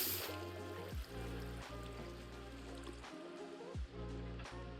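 Water pouring from a bucket in Minecraft, a steady broadband rush and trickle running the whole time with brief dips, loud and close, with no talking.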